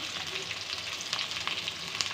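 Onions fry in oil with a dense, close sizzle, a constant bright hiss flecked with small pops, heard alone.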